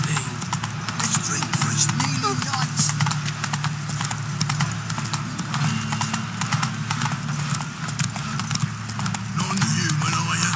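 The horse Roach gallops in The Witcher 3, its hooves clip-clopping in a fast, steady beat that runs the whole time over dense game music and ambience.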